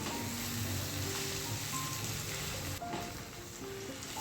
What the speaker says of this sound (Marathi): आता ह्या भाज्या आपल्याला छान परतवून घ्यायच्या आहेत